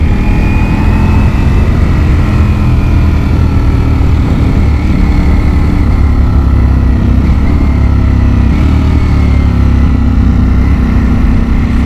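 A Ducati Panigale V4S motorcycle engine runs loud and close, its steady roar dropping through gradual pitch falls as the bike downshifts, with no talking.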